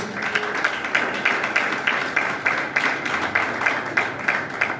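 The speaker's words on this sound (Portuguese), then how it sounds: "Pode bater as palmas para Deus." A church congregation at a worship service claps their hands to God in a steady, rhythmic group clap that holds throughout, fairly loud and with no talking.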